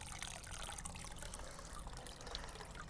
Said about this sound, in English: it's just a light little trickle coming out of here